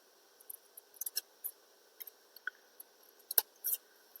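Scissors snipping paper petals for a paper rose, a sparse series of quiet, crisp cuts spaced irregularly, close by in an otherwise silent room.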